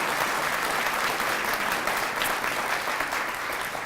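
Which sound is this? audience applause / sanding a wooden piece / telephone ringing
audience applause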